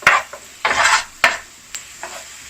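Mushrooms are stirred with butter in a pan, giving a run of close, sharp scraping strokes and clinks of utensil against metal, each followed by a brief soft sizzle, with no talking.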